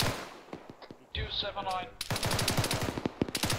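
Rapid automatic gunfire in a military shooter game, with dense bursts of shots and a sweeping whine, the shooting growing louder and more continuous toward the end as a voice speaks briefly.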